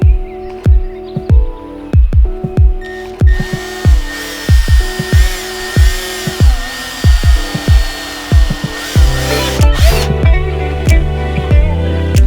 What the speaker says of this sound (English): Okay, now I gotta drill some holes.